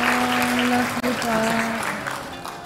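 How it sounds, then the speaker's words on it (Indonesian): An audience applauds at the close of a modest fashion mastermind class session at ISEF 2021, sustained, dense clapping filling the room with a steady wash of sound while voices speak over it. "tepuk tangan buat kita semua"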